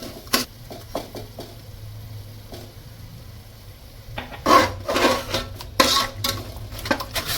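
A ground paste of coriander, mint and green chili is mixed in a pressure cooker for biriyani, with clinks and scrapes of a spoon against metal over a low hum, growing busier and louder toward the end.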